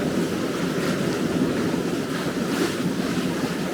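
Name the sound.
waves and wind while sailing a boat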